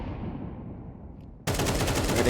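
Sudden sustained burst of automatic gunfire spraying in a Counter-Strike style match between Team FORZE Reload and Team Viperio, loud and dense after a quieter stretch of fading noise.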